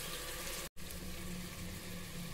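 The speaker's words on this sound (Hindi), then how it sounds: "पानी भी डाल देंगे कटोरी धोकर" Water is poured from a rinsed bowl into a pan of spiced potatoes frying for tomato-potato sabzi, a steady close gush and sizzle with a brief break in the middle.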